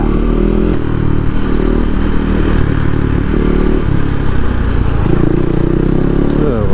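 A motorcycle rides along an open road, its engine droning steadily and loudly up close with slight rises and dips in revs and some rattling from the bike.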